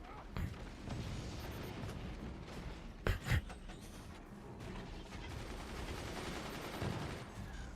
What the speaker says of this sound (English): those incendiary mortars are starting to ramp up the damage